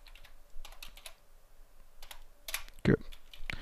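Rapid typing on a computer keyboard while setting up a JUnit Gradle project, with close key clicks in quick clusters and a couple of louder strikes near the end.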